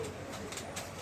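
A pair of racer pigeons, Afsan grizzle, a hen and a cock, give soft low cooing in a brief burst, close by and quiet.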